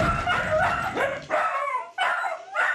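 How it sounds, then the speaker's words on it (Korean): Several dachshunds bark and yip loudly and close by in a burst of overlapping, high-pitched barks with short whimpering tails, coming in three or four clustered bursts. "영상 속 짖는 소리에 이 녀석들 또다시 소란스러워지는데요"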